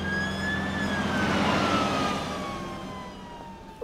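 A cartoon fire truck's siren wails in a long, slowly falling tone over steady engine rumble, moderately loud and gradually fading.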